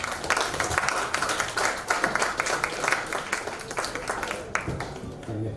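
An audience applauds at a business forum chapter launch, a dense, steady run of hand claps filling the room at close range for several seconds, with a few voices faintly mixed in.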